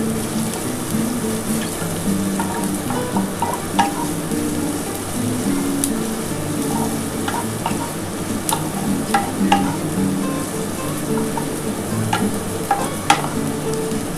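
Garlic and onions stir-frying in a hot pan on a gas stove for restaurant-style egg chowmein, heard as a steady close sizzle with intermittent scraping and clanking of the spatula, alone and fairly loud.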